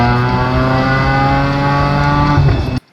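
A subscriber's car exhaust pulls hard in second gear, the engine note climbing steadily in a loud, continuous harmonic drone for nearly three seconds before cutting off abruptly.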